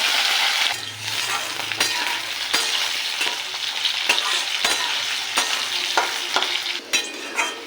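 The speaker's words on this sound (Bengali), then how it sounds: "আলুটাকে ভেজে নেব" Potatoes with cumin seeds sizzle and crackle steadily in a hot pan, with occasional scraping and clinking of a spatula stirring them.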